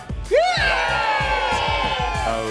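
Crowd at a Volkswagen car show in Beaulieu cheering, whooping and screaming loudly for a few seconds, a dense sustained roar of voices.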